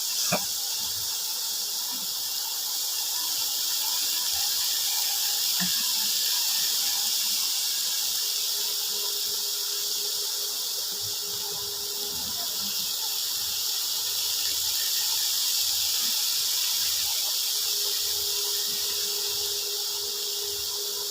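Spices sizzling in oil in a pan for a samosa filling, a steady hiss and crackle that runs without a break, close and fairly loud, with no talking.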